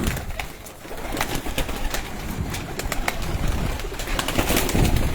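Breeder pigeons coo continuously at close range, soft throaty calls layered with occasional wing flutters and chirps in a busy loft.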